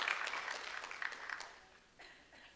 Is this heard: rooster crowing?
no